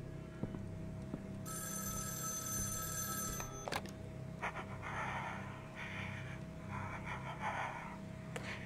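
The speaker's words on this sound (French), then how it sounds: "Ah, téléphone, c'est pour moi." A telephone rings in the Evil Inside video game, a bright repeating bell tone lasting about two seconds over a low droning ambience, followed by short sharp clicks and faint rhythmic noises.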